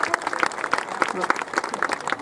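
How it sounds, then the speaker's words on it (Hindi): A crowd at a Van Sanskar Abhiyan 2022 public event in Burhanpur, Madhya Pradesh, claps in a steady scatter of sharp, fairly close hand claps, with a voice speaking over it throughout. "साथ ही ताली जगदीश मामा की ताली बजाएंगे सब मिलकर"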